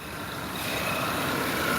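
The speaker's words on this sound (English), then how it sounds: "So the car is running right now" A car engine runs at a steady idle in a small stealth camper car. The broadband rumble stays continuous and fairly loud, with no talk over it.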